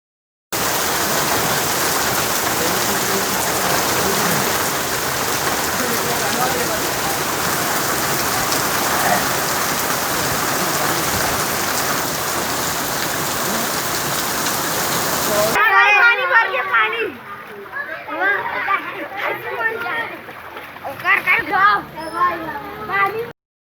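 Heavy rain pours steadily onto roofs and streets during a downpour that floods low-lying city neighbourhoods, a loud dense hiss throughout; it cuts off abruptly near the end, where a voice speaks over quieter background.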